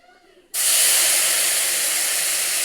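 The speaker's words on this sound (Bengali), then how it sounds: "বেটে রাখা মশলাটা দিয়ে দিয়েছি। মশলার সঙ্গে টমেটো কুচি দিয়ে দিয়েছি।" Ground spice paste and chopped tomato drop into hot oil and set off a sudden loud burst of steamy sizzling hiss that stays strong and steady after a quiet start.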